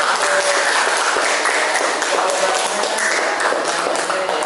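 Students in a classroom clap together, a dense steady round of applause that fills the whole stretch without pause, loud and close.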